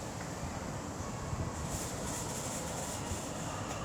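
A West Midlands Railway class 730 electric unit, 730022 with 730033 on the rear, departs Erdington on a service to Four Oaks. Its faint, steady rolling rumble carries from a distance without pause.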